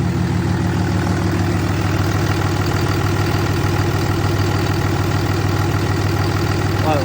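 A 6.7 Cummins diesel engine idles steadily right after a valve lash adjustment, a close, even low rumble with a regular ticking rhythm running unbroken throughout.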